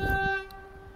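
A train passing through a suburban station sounds its horn in a steady sustained tone over low rumbling, fading slightly after a moment; no talking.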